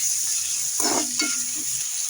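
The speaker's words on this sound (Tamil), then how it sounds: "நல்லா மிக்ஸ் பண்ணி விட்டுக்கலாம்." Onions and tomatoes fry in a pan for village-style chicken kulambu; a single short scraping stir rises out of a low background hiss, close and brief.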